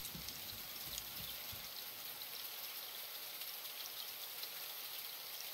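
Rain in the survival video game Raft, a soft, even patter of falling drops with a faint watery rush beneath, quiet and steady without any voices.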